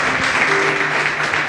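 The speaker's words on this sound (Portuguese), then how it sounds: "Louve ao seu Deus, ao seu Criador com as suas palmas" A church congregation claps hands in praise, a brief dense burst of clapping with a faint sustained tone, likely from an instrument, beneath it.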